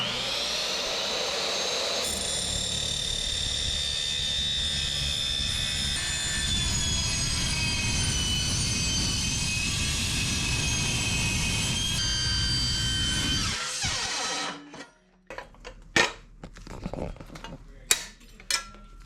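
A power cutting tool slices through the flange of a fabricated turbo manifold for a turbo 3.8 L6, giving a loud, sustained high whine for about fourteen seconds, then scattered metallic clanks and knocks after it stops.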